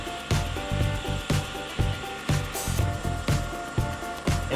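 An Ariens electric riding mower runs under no load with a steady electric whine and hum, overlaid by regular rhythmic thumps and rattles repeating about every half second, close and fairly loud with no talk.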